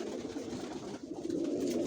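Adult racing pigeons cooing softly in a loft, low murmuring coos rising and falling over a faint background hum, no talk.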